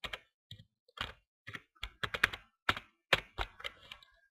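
Computer keyboard typed on to enter a Minecraft server command, with a quick, irregular run of close, crisp key clicks and thunks and brief pauses between them, with no voices.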